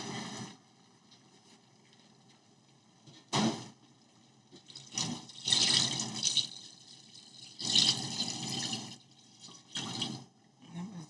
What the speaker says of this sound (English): And then we're going to pour it over our oxtail, and it's going to make that beautiful gravy